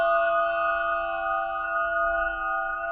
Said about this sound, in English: this is an 8-inch quartz crystal pyramid.